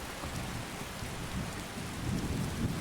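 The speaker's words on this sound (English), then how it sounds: "The rain sound effects are good too." A thunderstorm in the video game Skyrim: constant heavy rain hiss with deep thunder rumbling in the low end, swelling slightly louder near the end, with no voices.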